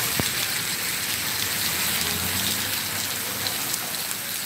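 Heavy rain from a tropical storm pours down steadily, a dense broadband hiss with scattered close drops pattering throughout, no voices.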